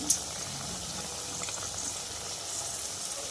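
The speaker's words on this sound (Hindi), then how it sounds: "मेथी के बड़े को मीडियम गैस पे ही फ्राई करना है" Methi vada, fenugreek fritters, frying in hot oil over a medium flame, giving a steady broadband sizzle and bubbling that runs evenly throughout with no talking.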